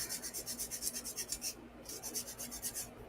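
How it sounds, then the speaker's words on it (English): A 100 grit sanding stick rubs in quick, steady back-and-forth strokes while roughing down a piece for an Old 2 Gold competition entry, the rasping close and fairly quiet with a short pause partway through. "I'm using this 100 grit sanding stick, which is pretty aggressive"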